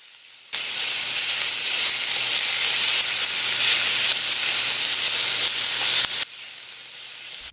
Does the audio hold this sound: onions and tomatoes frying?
yes